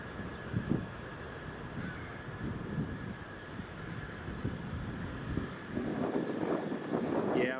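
An aircraft departs Edinburgh Airport, a distant, steady jet rumble growing slightly louder toward the end, with voices talking nearby.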